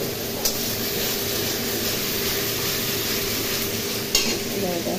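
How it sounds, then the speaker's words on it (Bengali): Constant loud sizzle of a spice paste for a meat curry frying in a pan, with steady scraping from stirring and a couple of sharper clinks. "এখন মাংসটা কষা চলছে, এই মাংস কষা না, মশলা।"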